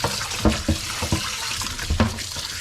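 Hot water pouring over frozen meat in a container, an uneven splashing trickle with several sharper splashes and clunks, close and alone.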